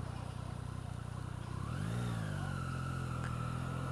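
A Yamaha MT-09 motorcycle engine with stock exhaust idles with a low grumble, then revs up and settles into a steady, throaty drone; close and fairly loud, no talking.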